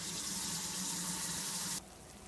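Cornstarch and cold water mixture poured into cooking meat for a shepherd's pie, giving a soft, steady liquid gush that stops abruptly near the end, fairly faint, with no talking.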